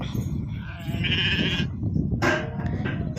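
A sheep bleats twice, fairly near, in a field where a ewe has just given birth, over a constant low rumble of outdoor background noise.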